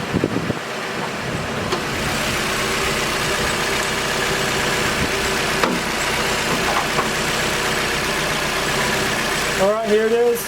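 A Mazda MX-5 engine idles steadily and smoothly with its hood open, a continuous low hum throughout, with a brief whine rising near the end.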